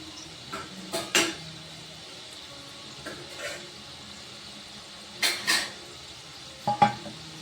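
Biscuit dough cooking in a pan over a low flame, stirred with a spoon that scrapes in short irregular bursts over a soft, steady sizzle, close by and with no voices.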